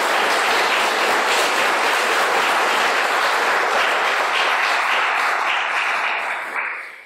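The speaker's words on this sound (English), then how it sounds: "if you want to give these people a round of applause" Conference audience applauding after a talk on Haxe development, a dense, loud wash of clapping that holds steady for several seconds and then fades out at the end.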